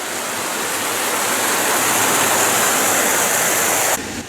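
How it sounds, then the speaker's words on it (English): Garden Creek, a small creek on Wyoming's Casper Mountain, rushes under a footbridge in a dense, loud, continuous wash of water that cuts off abruptly near the end. "The footbridge goes over this little creek."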